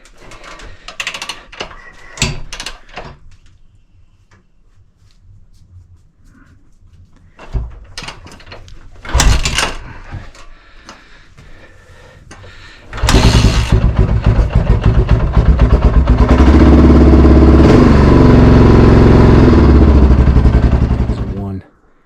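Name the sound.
2001 Honda XR650R motorcycle cold start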